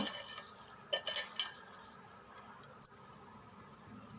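Masala vada batter seasoned with fennel seeds and salt is mixed by hand in a bowl, giving faint squishy, wet mashing with a few light clinks against the dish, close up and without talk.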